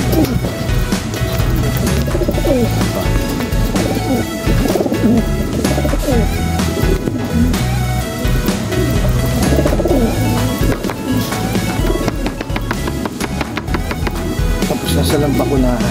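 Pigeons coo repeatedly in a dense, continuous chorus at a loft where the birds have just been vaccinated, with steady background noise and occasional other bird calls throughout.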